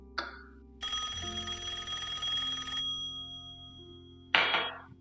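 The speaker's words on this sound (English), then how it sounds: "Phone's ringing off the hook." An old-style telephone bell rings in a long metallic burst, with short rattling jingles before and after it, fairly close in a quiet room.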